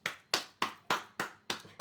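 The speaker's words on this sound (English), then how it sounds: "round of applause." One person claps slowly and deliberately, six crisp, evenly spaced claps close up in a quiet room, each ringing briefly before the next.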